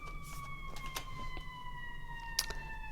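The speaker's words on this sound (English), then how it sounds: "there is a siren. Oh my goodness, it's so loud." An emergency siren wails outside, passing close and loud with a steady rising tone that stays prominent for the whole stretch.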